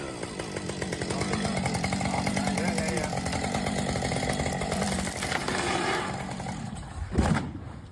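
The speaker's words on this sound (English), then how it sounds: "This lumberjack perfectly cut down this tree." A lumberjack's chainsaw cutting down a tree: a loud, steady buzzing engine whine held for several seconds, then easing off before a short heavy thump near the end.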